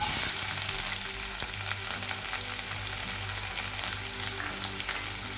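Garlic frying in hot oil for a spicy tuna fish pickle, a steady dense crackling sizzle that stays close and fairly loud throughout, with occasional sharper pops and a faint low hum beneath.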